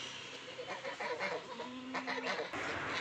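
Village chickens cluck briefly in the hot sun, with a few soft, short calls and one drawn-out note close by against quiet outdoor background.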